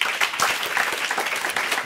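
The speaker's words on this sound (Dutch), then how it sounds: "geef hem een warm applaus" Warm audience applause greets a novelist arriving as the first guest at a live literary show, a dense steady patter of many hands clapping at close range for the full two seconds, with no voices over it.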